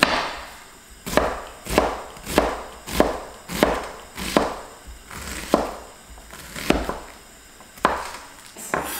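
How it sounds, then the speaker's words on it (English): Knife chopping onion into tiny pieces on a cutting board while preparing vegan black bean noodles, a steady series of about a dozen sharp, close chops spaced roughly evenly, with no talking. "Again, you're gonna cut them. Into small, small, tiny pieces."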